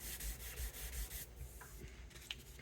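Fine-grit sandpaper rubbing over the finish of a vintage Rickenbacker guitar, a faint, steady back-and-forth scratching with soft strokes early on, then quieter handling and a small click near the end.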